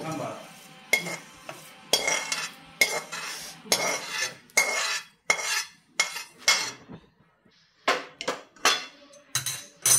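A metal spoon scrapes and clinks against a kadhai as roasted coriander seeds are moved into a bowl, a run of sharp irregular close knocks and scrapes separated by short quiet gaps.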